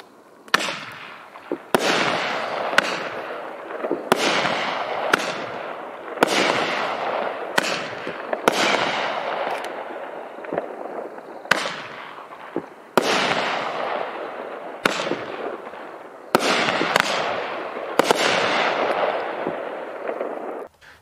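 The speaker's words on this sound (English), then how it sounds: "The Bazooka Girl is a 200 grams cake with big bursts of broken crown with red or green strobes, with a 2 shots finale of big broken crown" A Magnus Fireworks Bazooka Girl 200-gram cake fires big broken-crown bursts with red or green strobes and ends in a two-shot finale. Loud shots arrive every second or two, and each one trails into a dense, sustained crackle for about twenty seconds.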